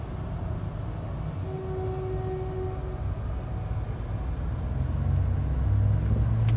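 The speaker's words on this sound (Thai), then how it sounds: "ขบวน 258 ต้นทางน้ำตกนะครับ ปลายทางธนบุรีนะครับ" Train 258 from Nam Tok to Thonburi passes a road crossing near Songphon stop on Chaloem Phra Kiat Rama IX road, heard from inside a car as a steady rumble that swells louder near the end.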